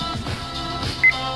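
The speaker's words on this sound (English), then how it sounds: "it'll beep and turn to kilometers for that ultra JDM" A Honda S2000 instrument cluster fitted in a Datsun 280Z gives a single short electronic beep near the end, clear and close over a low steady hum.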